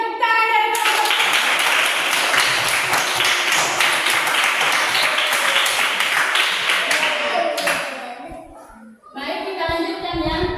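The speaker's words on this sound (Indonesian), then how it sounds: "Berikan tepuk tangan dari kelompok C." Pupils in a classroom clap for group C, a loud burst of brisk hand claps that runs for several seconds, fades out, then gives way to children's voices chanting or singing together.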